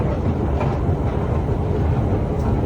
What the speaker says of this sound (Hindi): ई जे छै धरती के नीचा मेट्रो चल रहा छै रोमानिया में